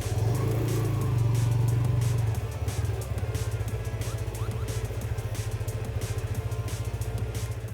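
A TVS Apache RTR 160 2V motorcycle rolls slowly in traffic, its single-cylinder engine idling with a steady low thrum and even pulsing beat, close to the microphone and without revving.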